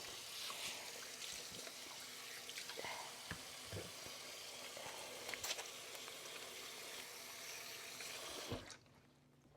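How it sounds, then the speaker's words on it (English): Tap water runs into a sink while hands are washed in a home kitchen during spicy cooking, a steady close trickle with small splashes lasting about nine seconds, then cutting off abruptly. "I'm going to wash my hands now."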